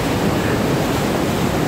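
Water rushes down the Edessa waterfalls in Greece as a loud, steady roar that fills the scene without pause, heard up close with no voices over it.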